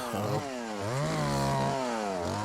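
A ported Craftsman 3.3 chainsaw cuts wood during tornado cleanup, its engine loud and close, bogging down in the cut and then revving back up.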